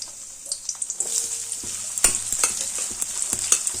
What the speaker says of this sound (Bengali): গ্যাসের ফ্লেমটা মিডিয়ামে দিয়ে পেঁয়াজটাকে ভেজে নেব।